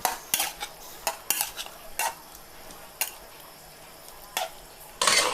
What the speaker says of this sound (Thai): เราจะผัดปลาหมึกกันไปก่อนนะครับ